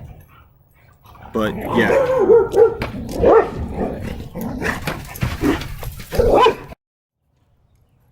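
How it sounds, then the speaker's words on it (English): Several dogs bark and yip rowdily nearby in repeated bursts, with some whimpering, while a person talks over the noise. "The dogs are deciding to be rather rowdy"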